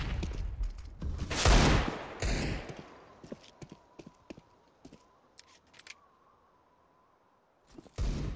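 Counter-Strike gunfire on the Nuke map: a loud burst of shots early, then sparse, sharp single taps of a Desert Eagle pistol at scattered intervals, with another loud shot at the end.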